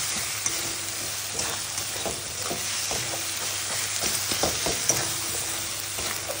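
Spice paste with Kashmiri chili powder sizzles softly in a pan as it is stirred, with steady frying hiss and irregular light scrapes and taps of a spoon throughout.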